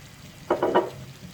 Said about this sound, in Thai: ผัดก่อนแล้วค่อยมาชิม